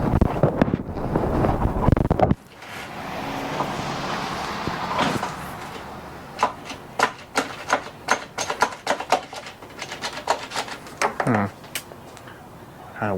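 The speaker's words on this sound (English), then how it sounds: "So let us go ahead and pull on the recoil." Recoil starter on a Stihl BR450 backpack blower yanked by hand, giving a burst of rough broadband rasp followed by a run of sharp clicks and sputtering pops, close to the mic after brief talk at the start.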